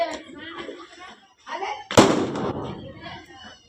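A Diwali firecracker bursts inside a bottle with a single loud, sharp bang partway through, amid excited nearby voices talking before and after.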